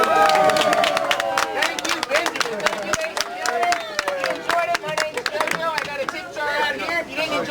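A street crowd reacts to a magic trick with loose, scattered clapping mixed with excited shouts and overlapping chatter, close and lively, with several voices talking and exclaiming over the claps.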